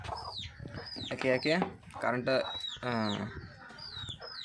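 Chickens cluck and squawk in short bursts nearby as they are released from their coop in dim early morning, mingled with chirps and a voice.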